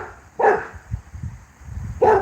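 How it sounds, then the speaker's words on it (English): A dog named Jax barks twice, loud and close, with short sharp barks separated by a pause filled with low outdoor rustling. "Jax, what are you barking at?"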